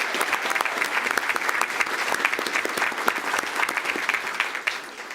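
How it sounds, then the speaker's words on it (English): Sustained applause from an audience at a school district board meeting honoring a student vocalist, dense steady clapping for about five seconds that fades slightly at the end. "Let's give her a round of applause."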